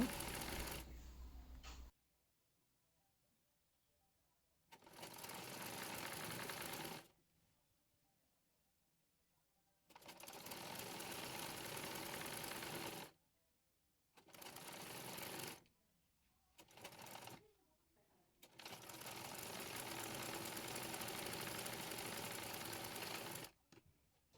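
A sewing machine stitches skirt panels together with gathers, running in about six separate bursts of steady whirring, each stopping abruptly into near silence before starting again.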